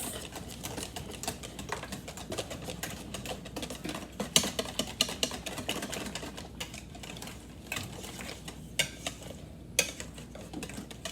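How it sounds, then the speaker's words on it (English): Manicotti crepe batter whisked in a bowl, making a steady, rapid clatter of utensil against the bowl that runs close and continuous with no talking. "you just mix it till it's all incorporated like pancake batter"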